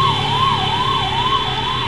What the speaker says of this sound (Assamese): পুলিচৰ গাড়ী গাইছ